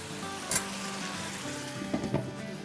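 Chicken biryani ingredients fry and brown in a pot, giving a steady low sizzle with a few brief stirring clatters and scrapes along the way.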